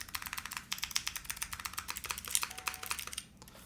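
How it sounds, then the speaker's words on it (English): Typing on an F1-8X keyboard, a rapid run of crisp close clacking keystrokes with some deeper spacebar thocks mixed in, steady and fairly loud, alone without talk. "obviously, this keyboard, the spacebar sounds fantastic"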